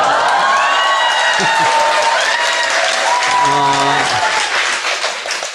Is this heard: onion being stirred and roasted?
no